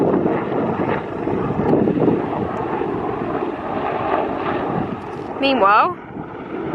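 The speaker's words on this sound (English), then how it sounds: "these helicopters keep coming over the yard" A steady, rumbling engine drone with wind-like roar persists throughout, and a brief voice speaks near the end.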